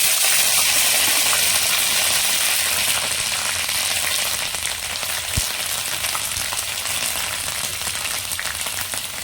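Onion paste fries in a pan for a hilsa fish curry, giving a steady, close sizzling hiss that runs throughout with a single sharp knock near the middle and no talking.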